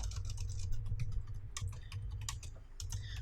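Close, rapid clattering of keys on a computer keyboard, typed in quick uneven bursts with short pauses.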